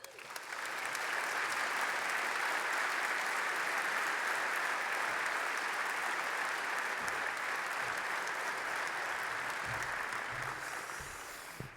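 A breakfast crowd at a heroes event in Nashville applauds steadily to welcome Captain Alejandro Villanueva, dense sustained clapping that holds loud for about eleven seconds before tapering off.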